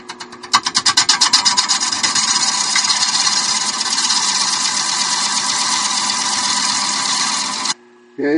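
A gouge rough-cuts a wooden bowl blank spinning on a lathe, opening with rapid rhythmic chattering ticks that settle into a loud, continuous, close scraping hiss and end abruptly.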